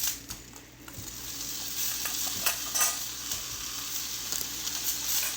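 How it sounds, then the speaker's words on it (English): Vegetables stir-fried at high heat in a pan for Korean beef, with a continuous bright sizzle and repeated scraping, tossing clatters close by, no voices. "We're going to toss the vegetables."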